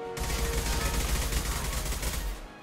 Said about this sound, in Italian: Ci arrivano i colpi laggiù.